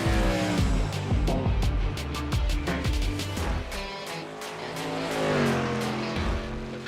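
A modified series race car on a qualifying lap at Lucas Oil Raceway roars past with rising and falling engine revs and gear changes, loud and close, then fades as it moves away.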